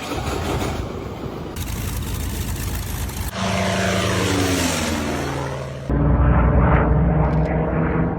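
A WWII propeller fighter with an inverted gull wing and a massive propeller, flown by the Marines in the Pacific, roars loudly. A rough drone gives way to a close flyby with falling pitch, then a steady near engine growl, with no talk.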